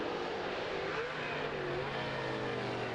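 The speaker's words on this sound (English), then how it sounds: "I love those blip and downshifts on those big V8 cars" A big V8 American Sedan race car at the 2011 SCCA Runoffs blips its throttle on downshifts, heard distant and faint as a continuous engine drone with brief rising revs, set in open trackside air.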